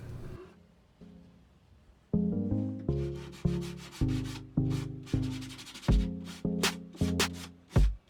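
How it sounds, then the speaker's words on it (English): Dried wood filler being sanded down on a DIY coffee bar cabinet, heard as close, rhythmic back-and-forth rubbing strokes that start soft and grow louder and steadier, with no talking. "once it dries, it turns brown. And then you sand it down."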